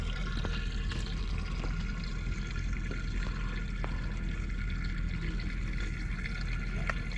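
Water gurgles and rushes continuously as the freshwater tank on a canal boat fills up, a steady close wash of liquid noise with occasional small splashes and drips.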